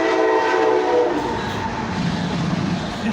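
Train passing close by, a broad rumbling roar with tonal horn-like bands early on, steady and loud throughout with no talking.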